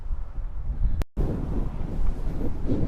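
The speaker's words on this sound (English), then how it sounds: "It really is windy today." Strong wind on a Tasmanian coastal path buffets the microphone in a heavy, roaring rush. It cuts out briefly for a moment, then the gusting comes straight back.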